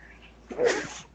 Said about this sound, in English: I'm not trying to sneeze in you guys' ears.